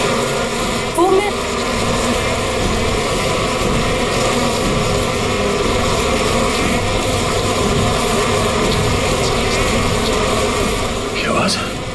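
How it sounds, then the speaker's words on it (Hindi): A swarm of bees buzzes in a steady, loud drone that carries unbroken from start to finish. "किसी ने मधुमक्खी को छेड़ दिया क्या?"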